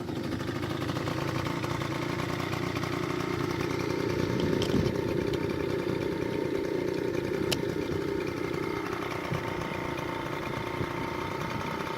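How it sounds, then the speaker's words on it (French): A scooter engine, kick-started, idles steadily as a continuous mid-pitched putter with a fast, even rhythm, close and fairly loud, with a couple of faint clicks and no talking. "Et là, je vais démarrer au kick."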